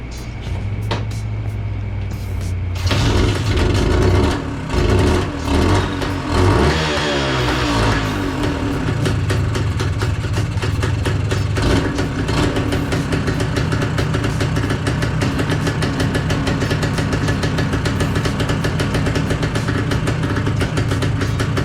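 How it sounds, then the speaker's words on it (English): Old 6-volt two-stroke motorcycle engine, quiet at first, then starting with a few throttle blips before settling into a loud, steady, buzzy idle close by, with no voices. "Put it on here, let the bike run, and hopefully the headlight will turn."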